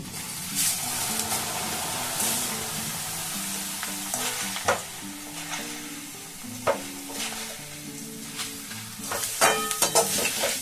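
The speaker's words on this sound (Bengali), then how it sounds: "আমি দেখুন 250 চিড়ে ভাজবো, তো একদমই হাই ফ্লেমে কিন্তু ভেজে নিতে হবে এগুলোকে।" Flattened rice (chira) deep-frying in plenty of oil over a high flame, a continuous crackling sizzle broken by bursts of spatter and the clatter of stirring, close and moderately loud with no talking.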